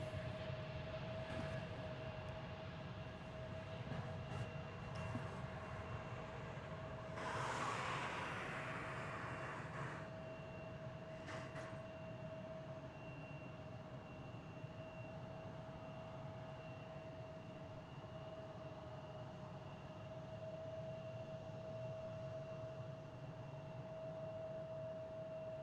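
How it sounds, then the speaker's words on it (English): A Frontier Airlines jet departs DFW Airport, heard from a distance as a sustained engine roar with a steady tone, swelling briefly and then holding a low rumble. "Frontier Flight 2147 off to the mile-high city of Denver"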